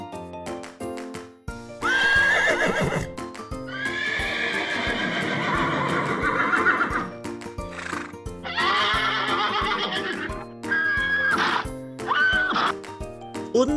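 Horse whinnies and neighs ring out in several loud bursts, with clip-clopping hooves sounding between them, alone and without talk.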